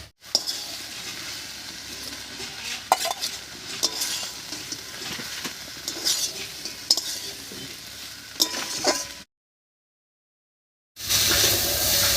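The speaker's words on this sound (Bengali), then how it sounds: "মাছটা দিয়ে একটু নাড়িয়ে নিয়েছি" Dried fish (shutki) stirred into spiced vegetables in a pan, with a steady sizzle broken by scraping spatula strokes for about nine seconds, then a brief silence before a louder burst of frying.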